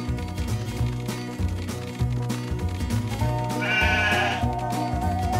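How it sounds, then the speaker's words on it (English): Cartoon sheep bleat in the PAW Patrol Academy video game, several short bleats rising over cheerful looping background music, with one clearer, higher bleat near the end. "All right, you chilly sheep, follow me."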